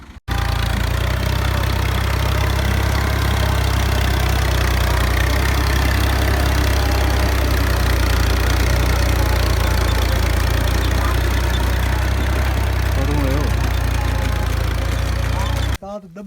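A tractor engine runs throughout maize sowing, a loud, steady low rumble close by, while people talk over it.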